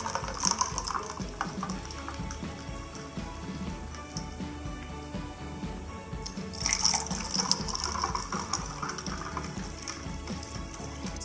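Lime juice is poured into a tall glass over ice, giving a steady, soft liquid trickle with a brief louder splash of filling partway through, close and without speech.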